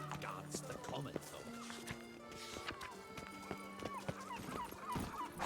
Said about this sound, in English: mi caballo se ha encerrado en una casa